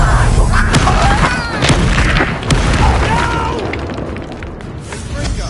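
A Confringo blasting spell explodes in the Hogwarts Legacy video game, with heavy booms and crackling bursts inside dense, continuous game audio.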